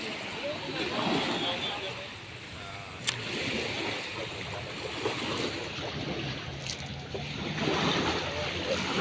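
Sea waves wash onto a beach in Pangasinan with a broad, steady surf roar and wind buffeting the microphone, while voices talk over it.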